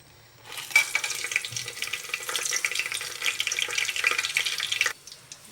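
Biryani spices hit hot oil in a pressure cooker, a sudden loud crackling sizzle that holds steady for about four seconds and then cuts off abruptly.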